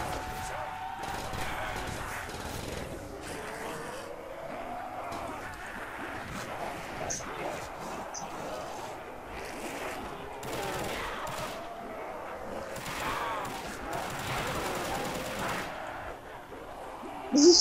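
Turret gunfire in a Custom Zombies game, rapid continuous automatic fire rattling on through the whole stretch at a moderate distance, with game noise beneath and a sharp burst at the very end.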